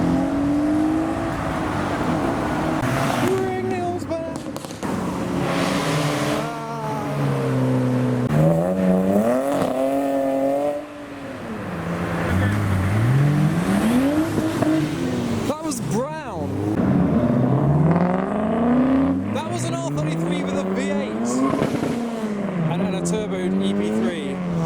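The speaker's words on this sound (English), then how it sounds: "a Civic with an exceptionally large spoiler on the back departing the show as well" Cars rev and pull away one after another as they leave a large car meet, among them a Honda Civic with a big rear spoiler, engines rising and falling in pitch close by while someone talks over them.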